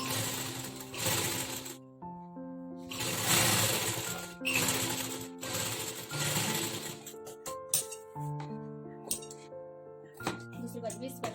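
A sewing machine stitches blouse fabric in repeated bursts of rapid, rhythmic clatter, stopping and starting close by, with the machine's tones ringing between runs.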